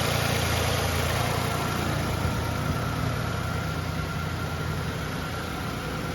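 A 2020 Toyota Highlander XLE's 3.5 liter V6 engine idles in a steady, even drone with a constant mechanical hum, heard close up and alone.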